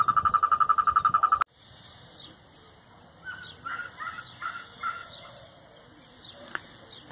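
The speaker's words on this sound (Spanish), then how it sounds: "la fiesta de los sapos y las ranas" Toads and frogs calling at a natural swimming pool: a rapid pulsed trill stops abruptly, then a chorus of croaks rises in bursts at moderate distance over a quiet background.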